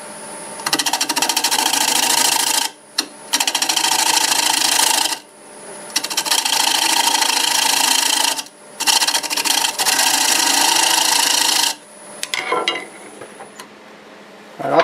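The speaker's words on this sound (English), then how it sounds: "Use the 1/2" bowl gouge for this. Back to about 800 RPM." A 1/2-inch bowl gouge cutting wood on a lathe spinning near 800 RPM gives loud, steady rasping scrapes in several long passes, broken by short pauses between cuts.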